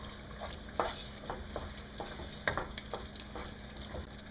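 Crushed tomatoes being stirred in a pan for lasagna, giving a low bubbling sizzle with repeated spoon scrapes and taps at an even pace, close by and with no voices.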